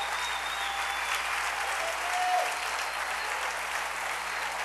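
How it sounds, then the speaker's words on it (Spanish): Steady, dense applause from a church congregation during a Spanish-language sermon on salvation, sustained clapping filling the whole stretch at an even level with no voices on top. "Dale otro aplauso al Rey bendito."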